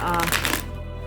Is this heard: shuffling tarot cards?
yes